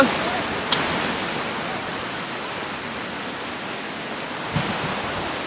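Water rushes below a mountain trekking trail on the route to Tilicho Lake, a steady, close, broadband roar with no break, and a couple of faint knocks near the start and end.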